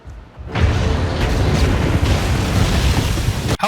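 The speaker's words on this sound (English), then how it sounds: "How is Rhino creating all those explosions?" Explosions in the Spider-Man: Miles Morales video game, set off as Rhino charges through buildings: a loud, sustained rumbling roar that starts after a brief quiet moment and stays dense until a sudden cutoff near the end.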